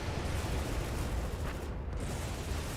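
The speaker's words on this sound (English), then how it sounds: "I hear a big explosion." A big explosion in the WWII strategy game Codename Panzers: Phase One, a dense, loud, continuous rumbling blast with crackling debris that fills the whole stretch without a clear single onset.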